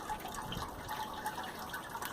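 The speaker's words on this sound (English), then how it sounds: "Okay, so I'm just sparging now." Sparge water pours over the grain mash in a Grainfather brewing system, a faint, continuous trickle and splash of liquid with small dripping accents throughout.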